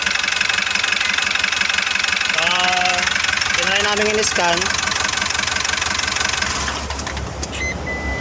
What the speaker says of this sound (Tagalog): yung makina niya medyo malagatok yung tunog. Alam mo may katok